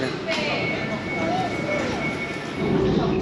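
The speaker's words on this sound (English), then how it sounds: "And here's the Abbey Wood train." An Elizabeth Line train bound for Abbey Wood pulls into an underground platform, a steady loud rumble with rising whine and a swelling roar toward the end, heard alone.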